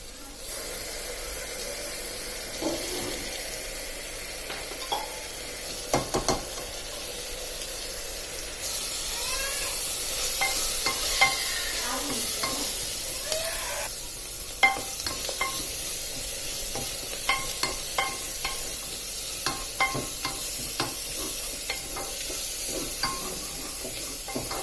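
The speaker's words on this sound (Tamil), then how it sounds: "வெங்காயம் நல்லா வதங்கிச்சு." Onions fry in a pan with ginger-garlic paste, curry leaves and mint for chicken chukka, a long steady sizzle broken by repeated scraping stirs, close and without talk.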